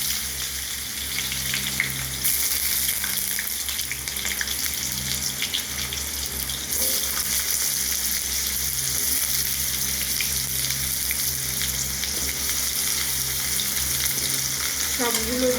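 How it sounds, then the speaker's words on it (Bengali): Ash gourd and other vegetables fry in mustard oil in a wok, giving a loud, unbroken sizzle close by that holds steady throughout, with a brief scrape near the end. "এইবার একে একে এই তরকারিগুলো ভাজতে হবে।"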